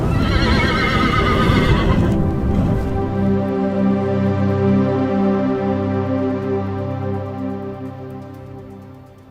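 A horse lets out a loud, close whinny that rises to a shrill peak and then draws out into a long, shaky, descending neigh lasting several seconds, with no talking.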